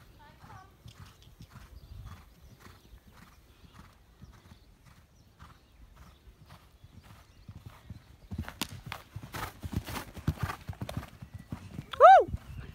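A horse canters in a riding lesson arena, hooves thudding in a steady three-beat rhythm, close and moderately quiet, with a trainer's voice calling out and a horse's whinny rising near the end.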